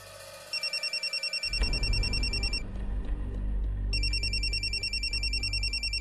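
A telephone ringtone trills in a repeating electronic pattern, starting softly and then sounding loud and steady over a dramatic music bed inside a home, pausing briefly midway before resuming.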